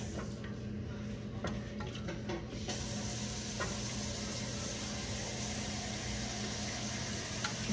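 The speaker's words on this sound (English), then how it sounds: "as our pasta sauce begins to sizzle and simmer" Steady low sizzling and gentle bubbling from pasta sauce with melting cream cheese in a pan, with faint clicks and stirring scrapes, continuous and close with no talking.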